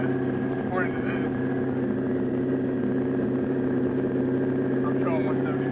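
A twin-turbo LS1 V8 swapped into a Mazda RX7 FD idles in a steady, even rumble, close and continuous throughout, with faint voices talking over it.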